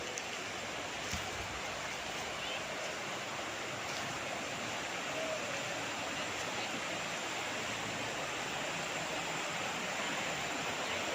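A river flowing past a concrete bank on a farm lot in Liliw, Laguna, fed by mountain water; a steady, even rush of moving water, moderately faint and continuous with no voices.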